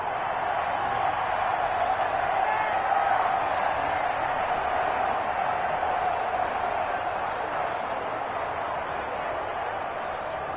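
Steady crowd roar from a simulated football stadium crowd in an Indianapolis Colts versus Dallas Cowboys video game, swelling ahead of a big third down, a constant wide wash of cheering that stays loud throughout the whole stretch.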